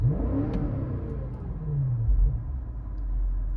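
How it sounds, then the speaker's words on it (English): A 2020 X6 M Competition's engine revs hard through its loud sport-mode exhaust, the roar climbing and dropping, then settling into a deep rumbling burble. "We have our exhaust in sport, so if we rev it, it's pretty loud"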